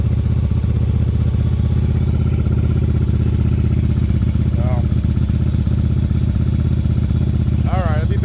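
A Yamaha Virago 750 chopper's engine runs at a high idle near 2,000 rpm, a loud, constant, close-up rumble, with brief faint vocal sounds over it.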